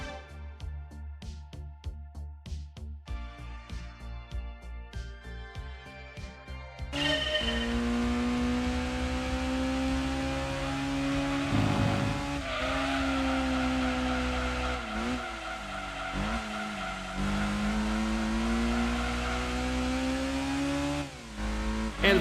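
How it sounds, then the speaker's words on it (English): A Honda S2000 race car with a 241-horsepower front engine and rear drive laps a circuit in Gran Turismo 2, a loud continuous engine whine rising and falling through gear shifts after a short musical intro. "this one with different car, Honda S2000, 241 brake horsepower, front engine,"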